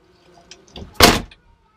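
A car door on a 1980 Toyota Corolla DX is shut once, a short loud thump preceded by faint handle and latch clicks, heard close up with no talking.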